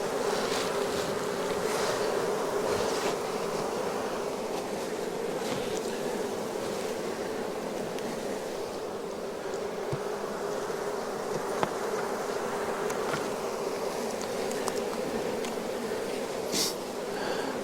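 Honeybees buzzing around an opened beehive, a dense continuous hum of many bees close by, steady throughout with a few faint knocks and rustles, no talking.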